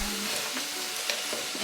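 Vegetable spring roll filling seasoned with soy sauce and five spice sizzles steadily in a pan, a constant close frying hiss with faint stirring scrapes and no talking.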